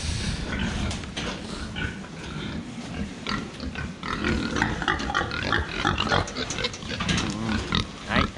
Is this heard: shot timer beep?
no